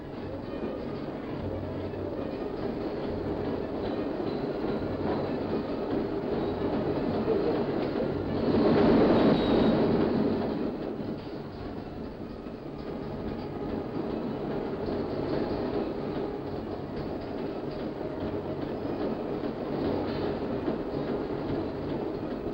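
Train wagons rumble steadily along a special track, hauling construction material from the lower Sava riverbed for the Medvode hydroelectric plant. The heavy rolling noise is continuous, swelling louder for a moment midway before settling back.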